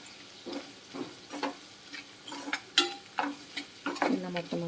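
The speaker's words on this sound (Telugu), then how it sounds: "ఇలా మొత్తం అంతా బాగా ఫ్రై చేసుకో." Onions frying in a pan as part of a curry, stirred with a utensil that gives repeated scraping and clinking strokes at a steady rhythm over a soft, continuous sizzle.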